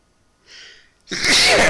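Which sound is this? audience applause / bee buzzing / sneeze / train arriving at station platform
sneeze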